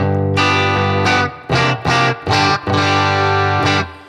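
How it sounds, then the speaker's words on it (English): Electric guitar played through a small tweed amp cranked up into heavy distortion, loud sustained chords with several sharp stabbed hits and gaps, ringing harmonics and a fuzzy, on-the-edge-of-breaking-up tone. "small tweed amps, I mean, they when you crank them up, they kind of sound like they're going to blow up almost"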